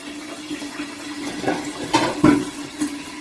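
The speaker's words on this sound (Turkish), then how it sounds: "Gene geri suyunu üzerine döküyorum" Cooking liquid poured back over garlic meatballs in a pot, heard as short sloshing splashes and gurgles in a few quick bursts, close and moderately loud.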